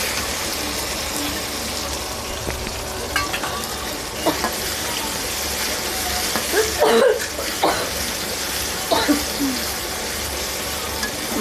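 A paste of ground dried chili and cumin fries in hot oil with a continuous loud sizzle and occasional scraping stirs, close by.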